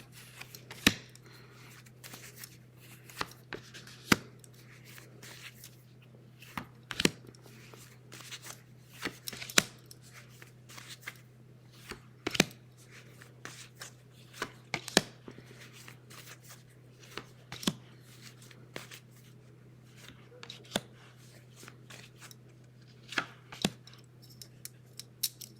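Rider-Waite tarot cards being shuffled and dealt out, a steady run of sharp, close card snaps and flicks recurring every second or two over a constant low hum, with no talking.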